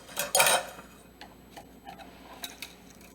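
A knife trims the ends off fruit in a kitchen, giving a cluster of louder chopping and scraping knocks at first, then scattered light ticks and taps against a board or bowl.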